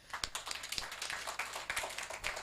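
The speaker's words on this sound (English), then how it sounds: "A round of applause to the panel." Scattered clapping from a small audience after a panel discussion on electricity distribution in Nigeria, quiet and somewhat sparse, with individual claps distinct over about two seconds.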